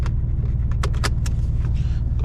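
A warmed-up Z car engine idles steadily with a low, continuous rumble, joined by a few brief clicks and rattles from inside the cabin.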